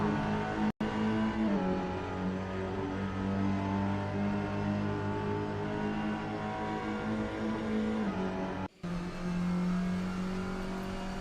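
A touring car in a sim racing game works through the Texaco chicane, its engine holding a steady droning note that dips and shifts as gears change and the car brakes and accelerates, loud and continuous with two brief cutouts.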